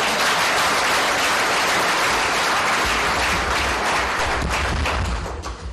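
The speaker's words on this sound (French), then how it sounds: "Merci de l'applaudir pour lui montrer une fois de plus notre attachement à sa personne." An audience at a public ceremony in Kinshasa, DR Congo, honouring First Lady Olive Lembe Kabila, breaks into loud, sustained applause that fills the whole stretch.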